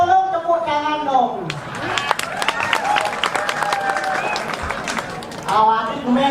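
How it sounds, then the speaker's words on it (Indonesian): Applause from a Balinese comedy show audience swells into dense clapping and cheering for several seconds, with a speaker's voice heard briefly before and after the burst. "tepuk tangan dong"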